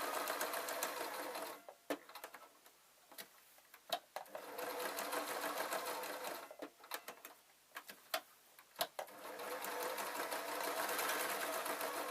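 A domestic sewing machine stitching decorative seams on a handmade doll, running in bursts of steady rapid whirring broken by short pauses and sharp clicks as the fabric is turned.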